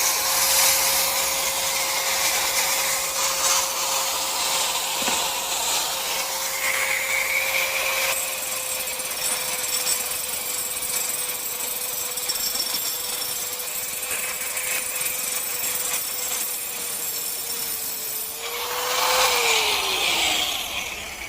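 An electric angle grinder is switched on and runs alone for about twenty seconds, a loud, steady motor whine with a high, even pitch that winds down near the end.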